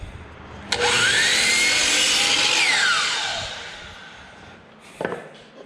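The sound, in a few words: trimming a wood piece for a box mantel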